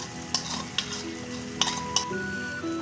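Leftover yogurt marinade going into chicken karahi cooking in a pan, giving a steady close sizzle with stirring scrapes and a few sharp utensil ticks against the pot.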